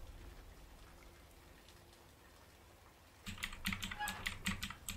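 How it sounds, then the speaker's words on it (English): Keyboard typing in the prison-escape video game A Way Out, starting after a quiet stretch as a rapid run of close, crisp key clicks under low background ambience. "It's interesting that the keyboard works like this."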